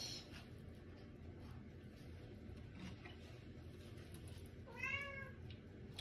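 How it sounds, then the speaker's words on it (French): A domestic cat meows once in a kitchen, a short rising-falling cry near the end over a steady background hum. "Oui, alors j'ai mon chat qui miaule."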